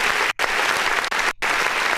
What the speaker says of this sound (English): Let's hit the clap button.